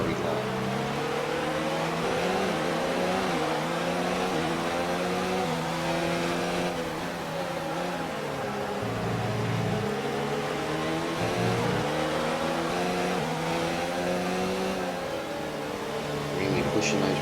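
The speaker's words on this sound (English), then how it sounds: "Pushing those revs up nice and high, trying to get the maximum amount of rev range as possible." Simulated Formula 1 race car engine in the F1 video game, revving hard and sustained with rising and falling pitch through gear changes, loud and continuous across the whole stretch.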